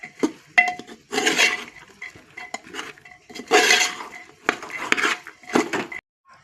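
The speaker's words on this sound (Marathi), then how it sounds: "आता हे सगळे इन्ग्रेडियंट आपण मिक्स करून घेऊयात।" Ingredients being mixed by hand or spoon with washed flat bean pods in a vessel, close rustling, scraping and clinking in irregular bursts separated by short quiet gaps.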